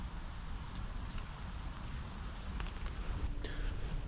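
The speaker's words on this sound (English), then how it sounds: "The rain's eased off slightly." Light rain patters steadily on a woodland shelter in the background, a soft continuous hiss with occasional drips, fairly faint and even throughout.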